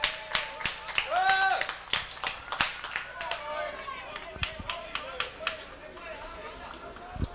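Scattered clapping and cheering from the stands at a 1999 Big League World Series baseball game between Canada and Puerto Rico, moderate in level beneath a commentator's voice and a brief whistle-like tone.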